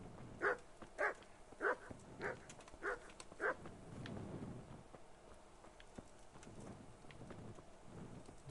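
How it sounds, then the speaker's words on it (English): A dog barks in the medieval game Kingdom Come: Deliverance: six evenly spaced barks in the first few seconds, followed by a quieter stretch of low background sound. "Be quiet, you stupid dog."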